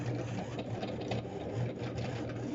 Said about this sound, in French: Ça fait un peu de bruit, c'est la machine